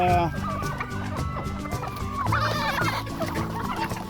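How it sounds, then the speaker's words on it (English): Guinea fowl call repeatedly in harsh, rhythmic cackles, several birds overlapping close by and loud throughout. "We call them guinea chick. Their real name is Guinea Fowls."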